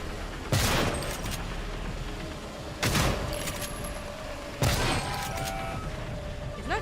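Three sharp gunshot blasts from an enemy in the 2017 game Prey, spaced a couple of seconds apart, each with a ringing tail over a steady low background hum.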